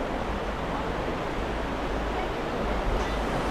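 Water rushes steadily at a mountain bathing spot near Baba Dhansar, Katra, in Jammu, a dense, even, moderately loud wash that continues unchanged throughout.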